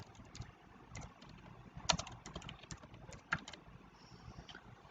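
Someone types on a computer keyboard while writing Python database code, giving quiet, irregular key clicks with a few sharper taps in a calm room.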